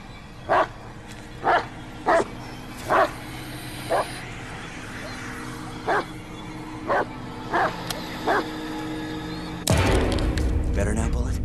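A dog in the Blair Witch video game barks in about nine separate woofs spaced a second or so apart, fairly near over a low ambient hum, before a louder noise burst at the end.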